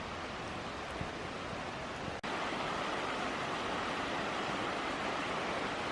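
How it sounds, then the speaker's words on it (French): A river flowing down from the Vercors mountains rushes in a steady, dense roar of water, close by and constant, with one brief click breaking it. "cette rivière qui descend du Vercors"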